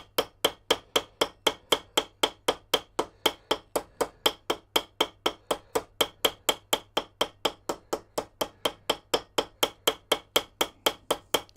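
A hammer peens the rivets of an old kitchen knife handle during a repair, sharp metallic strikes landing in a fast, very regular rhythm of about four per second, close and unbroken by talk.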